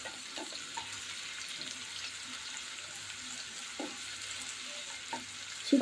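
Hot spices tempering in oil for boiled winter vegetables in a simple Bengali home dinner, giving a steady low sizzle with faint stirring clicks and a few sharper pops, close by and without talk.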